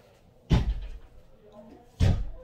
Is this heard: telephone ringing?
no